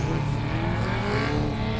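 A rallycross car on a slippery, snowy gravel track, engine droning loudly and steadily at close range with a constant rough roar, no voices over it.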